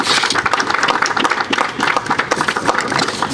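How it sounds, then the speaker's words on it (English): Outdoor audience applause at a launch event for electric school buses, with dense, fluttering clapping from a crowd that holds steady throughout. "let's give a round of applause"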